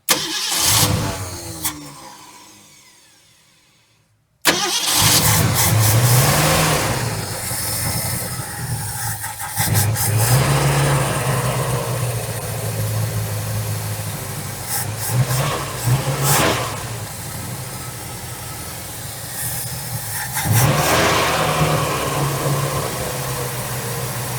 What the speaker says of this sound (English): So let's give her another try. I think it's going to start now.